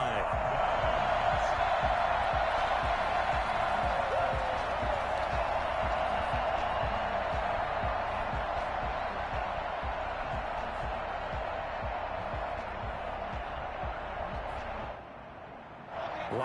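Dense, steady roar of a football stadium crowd at a Steelers vs Broncos game, loud and sustained with broadband cheering that swells early and eases slightly near the end, with brief dips and faint whoops.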